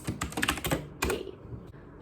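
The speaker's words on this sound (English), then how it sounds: "It feels very surreal typing all of this." Rapid, irregular keystrokes on a computer keyboard while an email is typed, close and clear, with bursts of clicks and a brief pause before a final few taps.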